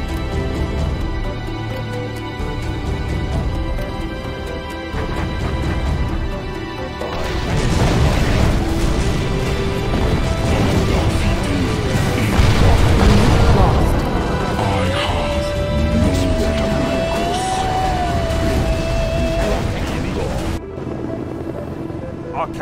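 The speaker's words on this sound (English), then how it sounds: "Flat trajectory artillery reporting." Artillery fire and explosions from a Chinese tank army in Command and Conquer: Generals fill the scene with loud, dense crashing booms and rumbles, while whining engine tones run beneath and short voice lines from units break in.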